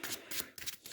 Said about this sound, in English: I cannot shuffle to save my life.